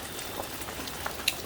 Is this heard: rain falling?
yes